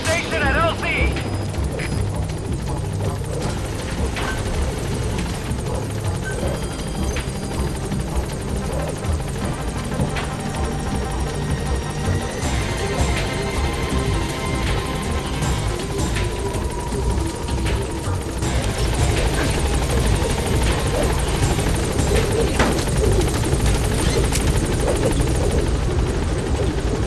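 The P-Quad support helicopter in Metal Gear Solid V arrives and hovers, its rotor thrum steady and loud throughout and swelling slightly near the end, with voice radio chatter over it.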